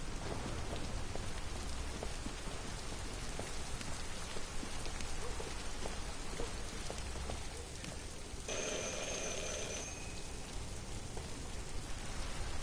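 Heavy rain pours steadily over a city street in Detroit: Become Human, a dense, even wash of drops, joined near the end by a brief ringing tone like a telephone bell.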